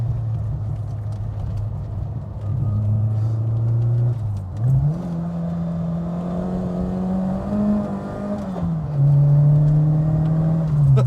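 A Fiat Strada 130 TC Abarth (Ritmo Abarth) engine pulls hard through an S-bend, its loud, close drone rising in pitch, dipping briefly at a gear change, then climbing again under progressive throttle.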